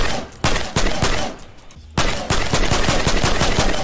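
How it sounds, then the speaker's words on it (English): Shotgun blasts in Fortnite Season 6 fire in rapid bursts, sharp loud cracks in quick succession, a short pause, then another fast string of shots, continuous and close. "This is like a dragon's breath, but 6 shots in a row."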